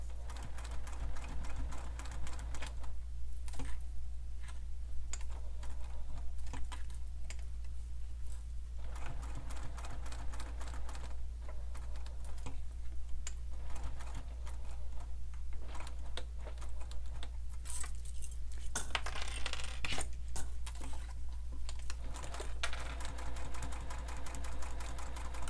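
Sewing machine stitching a sling pack, a continuous rapid mechanical clatter with a constant low motor hum, broken by short pauses and restarts over about twenty-five seconds.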